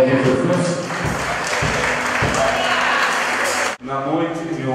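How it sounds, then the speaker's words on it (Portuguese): A church congregation applauds during a healing service, a dense, steady wash of clapping that cuts off sharply near the end, with voices and low rhythmic music running underneath. "Pode aplaudir Jesus?"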